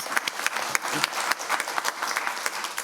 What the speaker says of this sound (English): I'd like to, yes, applaud for him